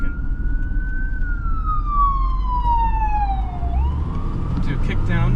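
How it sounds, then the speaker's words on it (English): A siren glides steadily downward in pitch, then jumps up near the end, rising over the constant road and engine noise inside a 1970 Mercedes-Benz 280SEL as an ambulance passes close behind the car. "And I got an ambulance behind me."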